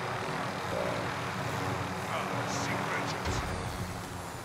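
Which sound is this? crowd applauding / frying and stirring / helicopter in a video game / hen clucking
helicopter in a video game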